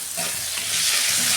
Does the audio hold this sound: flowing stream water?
no